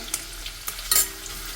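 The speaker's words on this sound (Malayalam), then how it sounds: "ആ പാനിൽ ഓയിൽ ചൂടായി വന്നിട്ടുണ്ട്. കുറച്ച് സവാള." Sliced onions drop into hot oil in a pan, sparking a short crackling sizzle with a couple of stirring scrapes, close and brief.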